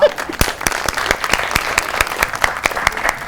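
Studio audience applauds for guest Agha Shiraz on a Pakistani comedy talk show, steady dense clapping with sharp individual claps standing out, loud and close throughout.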